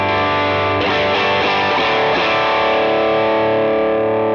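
A sustained, heavily distorted electric guitar rhythm chord rings out loud and dense through a Thrust drive pedal, with several strummed hits before the chord decays.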